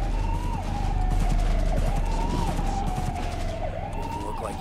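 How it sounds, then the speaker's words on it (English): A police car siren from the video game Cyberpunk 2077 wails in repeated rising and falling sweeps, loud and continuous over a low rumbling background, with no talk. "Oh, is that a police car?"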